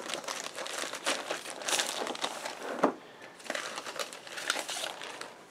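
A paper sheet with a small sticker is handled while a board game is unboxed, giving close, quiet crinkling and rustling in uneven bursts, with one sharper crackle midway.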